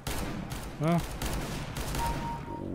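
Rapid gunfire rattles in a Counter-Strike: Global Offensive deathmatch, several quick crackling bursts spread across a couple of seconds, with a brief spoken word from a player cutting in between them.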